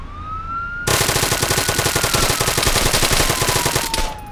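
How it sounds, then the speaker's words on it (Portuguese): A police car siren in the game Arma 3 wails loud and close, with a harsh rapid pulsing pattern that starts abruptly and holds steady for several seconds before cutting off. "Pode ligar a sirene"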